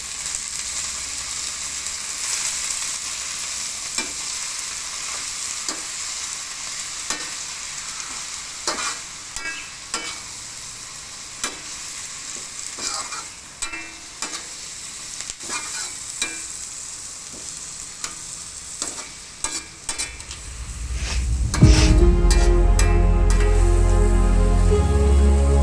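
A spoon stirs sweet leaves with fish curry in a frying pan, giving a string of scattered scraping clacks over a soft, steady sizzle, followed by a sudden loud surge of frying near the end.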